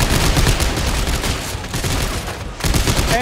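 Rapid, dense gunfire fills the action in the video game Dead Space 3, a loud continuous burst with a brief lull before shooting resumes, no voices over it.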